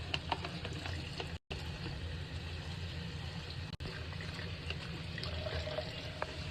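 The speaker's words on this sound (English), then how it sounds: "So you're just going to run the water, kind of go along with your finger, and just make sure that it's nice and clean." Tap water running steadily into a pot as it is rinsed by hand, a soft continuous splashing wash, fairly quiet and close with no speech.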